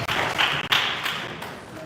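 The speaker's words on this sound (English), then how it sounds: "Clap for yourselves. Clap for yourselves." Children clap briefly at a mental health awareness event, a short, fairly close burst of applause that tapers off within two seconds.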